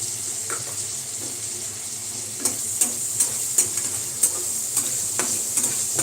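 Tomato pieces frying in a pan over steady low sizzling, with occasional sharp clicks and scrapes of stirring in the second half; no one speaks.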